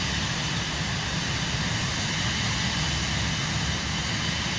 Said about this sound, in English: So that would just be the engine noise.